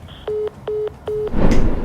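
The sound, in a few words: telephone call disconnected tone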